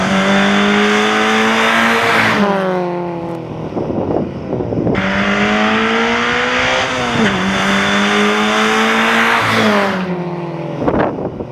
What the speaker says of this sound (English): I think the true test between the two cars might be some sort of maybe a second gear race or something